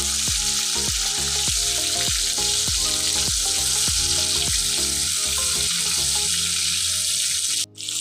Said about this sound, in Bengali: বন্ধুরা পটল ভাজা হয়ে গেছে